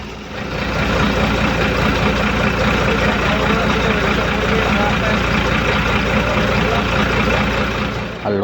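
A motor launch boat in the Sundarbans setting off, its engine droning loud and steady with a deep rumble that fills the whole stretch, fading slightly at the end.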